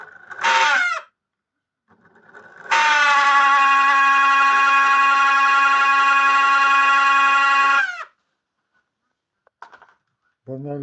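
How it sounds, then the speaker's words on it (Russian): A microwave oven fan squeals with a loud, sustained high-pitched whine lasting about five seconds, preceded by a short squeal burst and followed by brief faint sounds and a voice near the end. "Вот снял с микроволновки вентилятор и нашел, почему он тут пищит."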